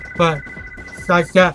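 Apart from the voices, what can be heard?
phone ringing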